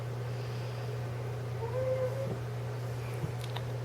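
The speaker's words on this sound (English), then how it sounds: "there's kitty cat" A cat lets out a single short meow over a steady low electrical hum, faint and fairly close, with a small knock toward the end.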